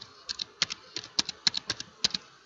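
Crisp, close keystrokes on a computer keyboard in accounting software, a steady irregular patter of a dozen or so clicks with no voice over them.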